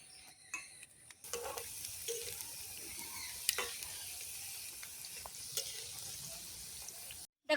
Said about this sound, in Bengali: এবার এগুলো আমি আস্তে আস্তে লাল লাল করে ভেজে নেব দু পিঠ।